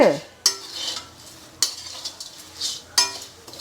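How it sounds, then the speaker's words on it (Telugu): Tamarind and salt being dry-roasted together in a pan, with sharp scraping stirs at steady intervals over a faint background sizzle, close and fairly loud, no voices. "మెత్తగా ఉంటుంది కదా చింతపండు, ఇట్లా ఉప్పు ఇవన్నీ కలిపి వేయించుకుంటే"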